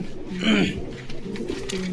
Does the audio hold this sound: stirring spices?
no